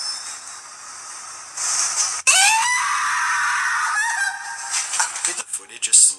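A woman lets out a sudden shrill, sustained scream that cuts through hissy, noisy background audio. It trails into uneven, higher-pitched cries.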